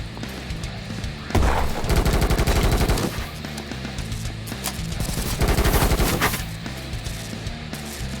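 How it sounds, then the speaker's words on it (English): Video game gunfire: rapid automatic bursts rattle loudly in two long volleys, with lighter scattered shots and a low background in between, no voices. "What are they shooting over there?"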